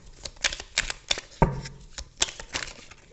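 Tarot cards are shuffled and drawn from the deck during a reading, giving a close series of crisp snaps and papery flicks with brief pauses between them, and no voices.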